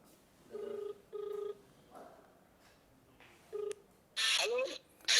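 An outgoing phone call rings back through the handset: short electronic tone bursts, two in quick succession and a third after a pause, followed by a brief burst of line noise.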